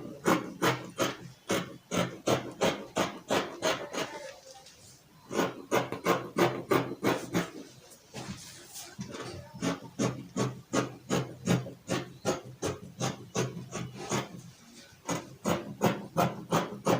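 Scissors cutting stretchy fabric for a long flare gown, a steady rhythm of close, crisp snips repeating about twice a second with brief pauses between runs of cuts.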